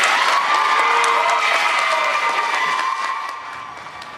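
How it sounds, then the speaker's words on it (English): Audience at a city council meeting applauds and cheers, a dense wash of clapping with some raised voices that holds steady, then thins and fades toward the end. "you can hear and see the people there applauding"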